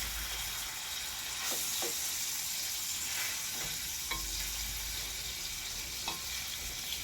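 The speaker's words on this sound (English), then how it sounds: "We're going to let it cook over on the other side." A speckled trout fillet sizzles in a pan as it is blackened, a steady dense crackling hiss with occasional sharper pops, close and fairly quiet, with no talk.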